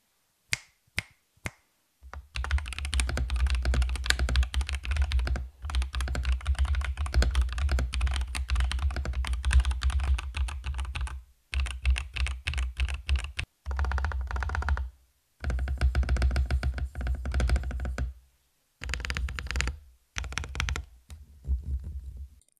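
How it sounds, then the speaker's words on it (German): Typing on a Fuker IK65 mechanical 65% gaming keyboard, with a few isolated key clicks followed by bursts of fast, close, crisp keystrokes separated by short silent gaps. "wir hören uns einfach mal kurz den Sound der Tastatur an"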